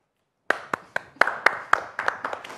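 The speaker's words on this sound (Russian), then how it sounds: "Эти аплодисменты, давайте громче поаплодируем." Concert audience clapping at a Gomel show, about a dozen sharp, separate claps in an irregular rhythm after half a second of silence, close and fairly loud, never building into full applause.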